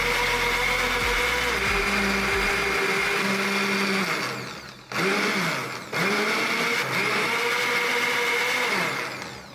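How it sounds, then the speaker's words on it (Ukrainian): A Cecotec Power Titanium 1300MAX blender whirs loudly and steadily, its motor pitch dipping and surging through a couple of brief pauses before spinning back up. "Блендер має дві швидкості та пульсовий режим, перемелює і яблука, і горіхи"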